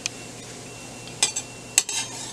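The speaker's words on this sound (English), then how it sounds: "moving, like stirring this mawa, otherwise it's gonna burn" Mawa being stirred in ghee in a pan, soft low sizzling under a few sharp metallic scrapes and clinks of a spoon against the pan, close and quiet, no talking.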